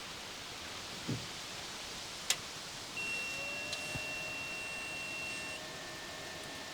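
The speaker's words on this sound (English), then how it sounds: "I heard a nice long beep, and I can hear the fans running" An RV power inverter gives a long, steady electronic beep over a quiet, constant whir of its cooling fans, with a couple of faint clicks nearby.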